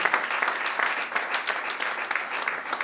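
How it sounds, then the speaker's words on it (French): A church congregation at a prayer and fasting service claps together, a dense, steady burst of applause with uneven peaks lasting about three seconds. "Clap for Jesus."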